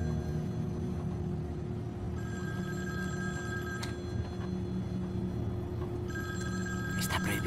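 A telephone rings inside a moving vehicle, two short bursts of electronic ringing over the steady low rumble of the engine.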